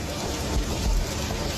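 Rain falling over the open sea in the Panaitan Strait, a dense, steady hiss with low rumbling, loud and continuous throughout.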